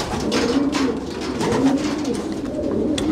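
Pigeons coo continuously in a racing pigeon loft at a Belgian pigeon center, several overlapping soft, throaty calls close by with steady background rustle and no talking.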